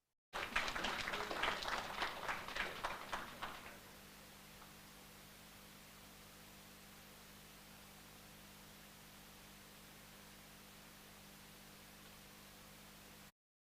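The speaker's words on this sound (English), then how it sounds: "A round of applause for Bernella." Applause at a secondary school prizegiving ceremony for a competition winner: a few seconds of moderately distant clapping that stops, leaving a long stretch of steady background hiss.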